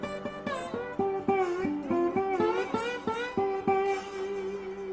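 Blues licks on guitar with the strings left undamped, a string of plucked notes and bends ringing into one another so they sound muddy and sustained, played alone and close.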